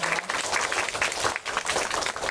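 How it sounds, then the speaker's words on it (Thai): An audience at a dharma talk gives a brief burst of applause, with dense, fairly quiet clapping lasting a couple of seconds after a Loy Krathong circle-dance song. "เขาเสียงปรบมือให้กับเรา"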